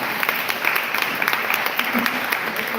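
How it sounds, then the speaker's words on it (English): Steady applause from a forum audience at a congressional candidate event fills the room, dense and continuous throughout, with a faint voice briefly audible underneath. "round of applause for finding this room."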